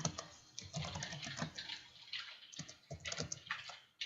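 Rapid clicking of keys being typed on a computer keyboard during a tabletop game session, steady irregular taps close by with no talking.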